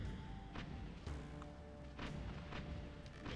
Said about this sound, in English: these plants are blowing up.